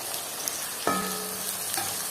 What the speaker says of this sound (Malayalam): ഇതിൻ്റെ വെള്ളമൊക്കെ നന്നായിട്ടൊന്ന് മാറുന്ന വരെ നമുക്ക് ഇളക്കി കൊടുക്കാം.